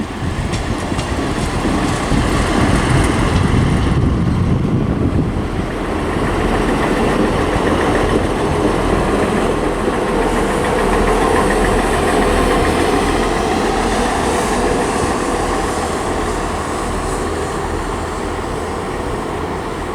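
East Midlands Trains diesel unit 158-865 at Grantham on the East Coast Main Line, a steady close engine idle with low rumble that builds and shifts as the unit pulls away, no voices.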